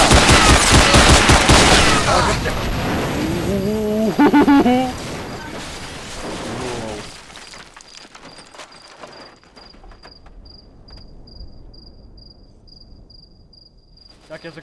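Enemies in the game STALKER Variant Omega 2 fire rapid automatic bursts, loud and dense at first, then fading to scattered distant shots under a faint steady insect-like whine and ambient hum.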